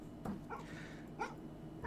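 In the horror game Fears to Fathom: Home Alone, a dog gives a few short, soft whimpers and muffled yips indoors, faint and spaced apart over a low background hum.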